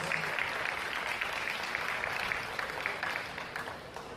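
Audience applause at a charity event fills the room with steady, dense clapping from a sizable crowd, continuous and fairly loud throughout with no voices rising above it.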